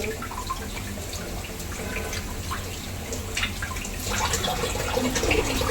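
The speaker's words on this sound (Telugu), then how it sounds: "ఫిష్ కడుగుతున్నాను. ఇలా నీట్గా కడగాలి." Fish are washed in water with salt and lemon juice, giving close, continuous splashing and dripping with small sloshes, louder toward the end.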